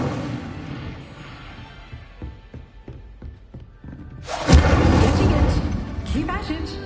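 An Incendio fire spell is cast in Hogwarts Legacy, a sudden loud, roaring whoosh of flame that bursts in midway and sustains, following a stretch of quieter, scattered thumps and voice.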